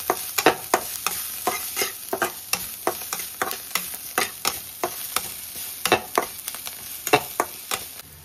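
Turmeric and salt being stirred into a frying pan mixture, with a steady high sizzle under repeated sharp scraping strokes of a spoon against the pan in an uneven rhythm, close and fairly loud, with no talking.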